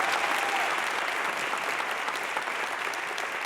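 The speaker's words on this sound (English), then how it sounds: "Let's give her a round of applause again." Audience applause fills a college convocation hall, steady dense clapping from a large crowd at moderate distance, sustained throughout with no break.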